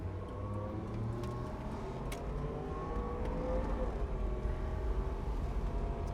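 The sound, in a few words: 1983 GMC Vandura G2500 van accelerating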